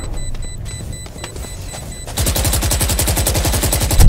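Gunfire in the tactical shooter Valorant during a clutch round, scattered taps at first, then a sustained rapid burst of automatic fire that stays loud and dense to the end.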